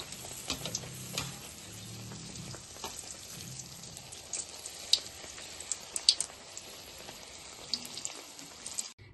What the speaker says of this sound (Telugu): కొబ్బరి బూరెలు ఎలా పొంగుతున్నాయో